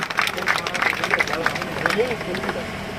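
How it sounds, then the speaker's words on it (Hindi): A crowd claps at a statue unveiling ceremony honoring a fallen Grenadier soldier, scattered claps and crowd murmur under a loud voice speaking over a PA. "जोरदार तालियां।"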